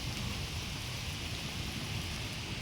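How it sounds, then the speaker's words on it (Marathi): Steady, dense early-monsoon May rain in Dapoli, Konkan, pours in an unbroken wash of hiss at even loudness, with no voices. "आवाज येत असेल तुम्हाला पण आभाळ वाचतोय पाऊस"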